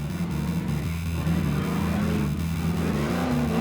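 A 4x4 truck engine roars at full throttle climbing out of mud at the Suzuki Extreme 4x4 Challenge, a loud sustained rev with shifting pitch throughout.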